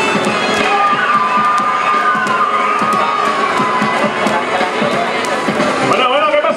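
A crowd cheers and shouts at a Dance Dance Revolution final, loud and sustained with high excited voices and claps throughout.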